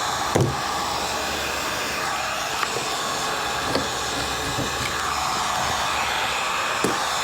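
A heat gun blows a steady, loud hot-air roar onto old sealant on aluminum trim from a vintage truck camper. The rushing hiss runs without a break, with a few faint clicks and taps of handling over it.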